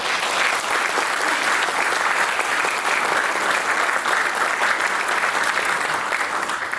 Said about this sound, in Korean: 여러분께서도 환영의 박수 다시 한번 부탁드립니다